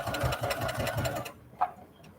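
A domestic sewing machine runs a rapid, steady stitching burst over elastic for about a second, then stops, leaving a faint click in the quiet afterward.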